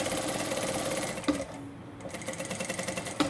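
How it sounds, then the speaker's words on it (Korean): An industrial sewing machine stitches the lining of a stand-collar dress, its steady needle chatter running close and continuous with a brief pause partway through. "이 미싱 구조상 오므림 양은 저절로 밑에 것이 오므림이 들어가기 때문에 그냥 편안하게 박으셔도"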